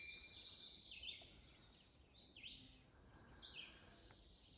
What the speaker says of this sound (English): Speaking of listening, hear the birds?